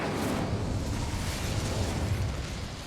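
An Incendio fire spell cast in Hogwarts Legacy gives off a steady, dense roaring whoosh of flame that fills the whole moment at a constant loud level.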